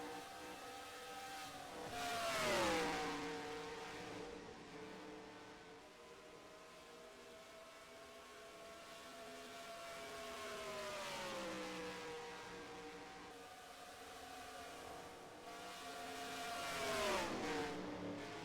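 NASCAR Cup Series race cars howl around the track at the 2025 KC Masterpiece 300. Loud engine drones swell and fall away as cars sweep past in repeated passes, with a steady roar in between.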